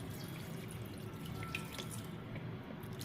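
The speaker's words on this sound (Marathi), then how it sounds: "त्यावर थोडं थंड पाणी घालायचं" Cold water poured from a tap over hot blanched fenugreek leaves and peas in a kitchen sink, a steady close running splash that continues without break.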